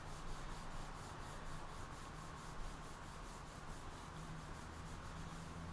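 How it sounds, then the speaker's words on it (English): A cotton rag rubs Danish oil into a wooden rustic candle holder, giving a steady, close, soft scrubbing swish that continues without a break and with no talk. "And you just put it on the rag and then rub it in."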